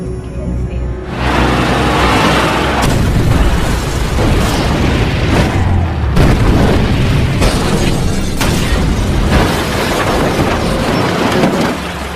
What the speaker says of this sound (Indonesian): Sebuah mobil meledak tepat di depan mereka.